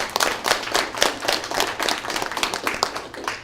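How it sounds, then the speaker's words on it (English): A live audience at an Americans United talk gives a round of applause, close and lively clapping with distinct hand strikes throughout. "Let's give her a round of applause."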